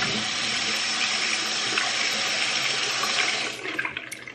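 Water runs steadily from a tap in a loud, even hiss that shifts and thins out near the end as the flow changes.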